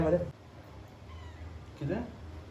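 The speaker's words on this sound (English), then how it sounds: "today we have with us our special guest Oreo, the Persian cat" Persian cat giving two short meows, one at the start and one near the end, faint and close, separated by quiet room tone.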